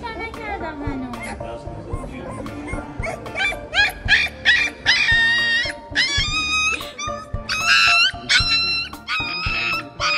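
A puppy at the vet whimpers, yelps and yips in high, strained bursts while getting an injection, the cries close and fairly loud and coming in broken clusters.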